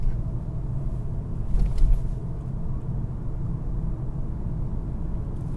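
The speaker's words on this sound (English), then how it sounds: "I just jumped into third gear, fourth gear, and it's fairly smooth." Steady low road and engine rumble from inside a moving MK7.5 VW Golf R with a DSG gearbox after a transmission tune, accelerating with a brief swell in loudness as it shifts into third and fourth.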